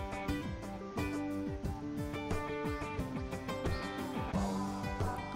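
The Anglow monster from the video game My Singing Monsters sings alone in a rhythmic, tonal musical loop with plucky repeated notes and steady beats, fairly quiet throughout.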